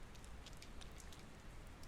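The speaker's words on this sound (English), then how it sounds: "Yeah, rain." Rain falls in the video game Persona 4 Golden as a soft, steady patter with scattered tiny drop ticks, heard faint and alone.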